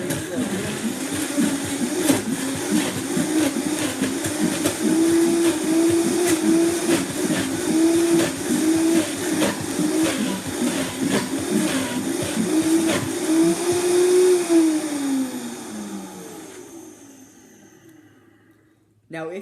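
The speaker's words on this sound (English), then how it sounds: "put on the top of your blender and let it go" A blender churns frozen fruit into sorbet, a loud steady grinding motor with rattling chunks, then the pitch drops as it winds down and stops near the end.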